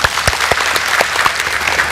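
Studio audience on an Indonesian Dr. Oz health talk show breaks into steady, dense applause, a continuous wash of many hands clapping close and loud throughout with no voices over it.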